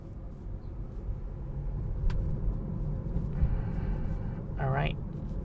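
Tesla on Full Self-Driving rolling over bumpy local streets in New Jersey, with a steady low road rumble and tire noise throughout, a few thumps from the uneven surface, and a brief chirpy sound near the end.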